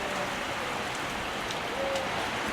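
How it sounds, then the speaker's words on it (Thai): Steady rain falls continuously, a dense hiss of drops pattering on surfaces throughout, with no voices. "โอ้ยฝนตกนี่ก็ได้"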